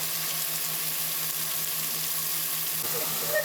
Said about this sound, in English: I'll let the pan get good and hot, and then put the beef in so that it develops a nice sear.